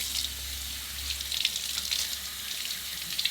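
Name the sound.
rinsing celery under running water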